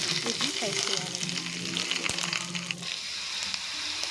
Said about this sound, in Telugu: ఒకసారి బాగా కలిపి ఫ్రై చేస్తూ ఉండండి. హై ఫ్లేమ్లోనే ఉంచండి.